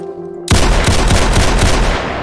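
Rapid bursts of automatic gunfire from the video game Survival Shooter sound loud and close after a brief quiet, keeping an even, repeating rhythm to the end.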